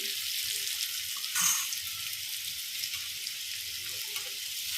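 Raw banana pieces sauté in hot oil, giving a steady broadband sizzle that runs nearly throughout, with a brief louder burst near the start, close and moderately loud with no voices.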